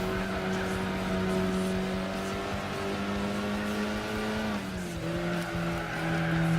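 In Gran Turismo 4, an Isuzu 117 Coupe race car's engine hums loud and near at steady revs, then drops in pitch with a gear change before carrying on, a faint tyre squeal blending in.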